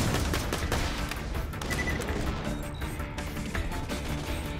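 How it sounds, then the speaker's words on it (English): Continuous gunfire from a gun in Borderlands 2 against Hyperion enemies, a steady dense stream of rapid shots and impacts at a constant loud level throughout, with no pauses. "Let's use our good gun for this."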